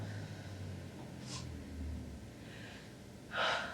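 A sharp breath drawn in during a Shaolin kung fu exercise class, quiet, with a brief soft inhale midway and a stronger audible gasp near the end.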